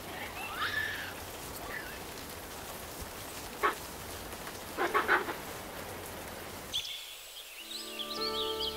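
Rain falls steadily in a mountain forest as a broad, hissing wash of drops, with a few louder splashes and faint animal calls mixed in, before the sound cuts sharply to quieter ambience near the end.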